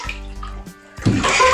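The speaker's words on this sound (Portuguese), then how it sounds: "Agora eu tenho água de verdade!" Water gushes into a bathtub in a short burst, a loud rushing pour starting suddenly after a moment of quieter sound.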